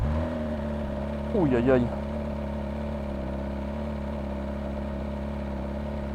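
A BMW S1000RR motorcycle with the M package idles with a steady, close mechanical drone, and a voice exclaims briefly over it.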